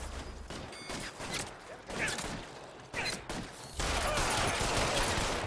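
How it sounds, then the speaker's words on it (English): Gunfire in the L.A. Noire video game during a shootout with security men: several sharp, separate shot bursts, then a denser, sustained spell of firing near the end, with faint voices in the mix. "Fire a warning round."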